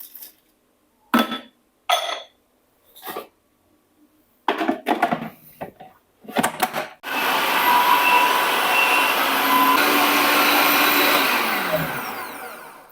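Electric chopper whirring through vegetables for chicken seekh kebabs, a loud sustained motor drone lasting about six seconds after a stretch of intermittent clatter and knocks, then winding down.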